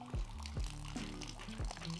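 Water squeezed from a plastic bottle through a Sawyer Mini water filter: a close, steady trickle with a few sharp squeaks and crinkles of the squeezed bottle.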